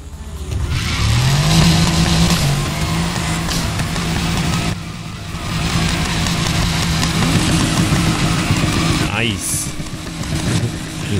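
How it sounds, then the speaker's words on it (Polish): Car engines roar through a street race in Need for Speed Heat, a steady loud engine drone with rising pitch sweeps, under occasional voices of players talking. "ryk silnika fajny"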